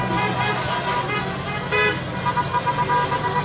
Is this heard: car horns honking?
yes